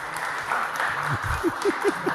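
Studio audience applause at a talk show, a short burst of clapping heard under a voice, moderately close, brief and soon fading.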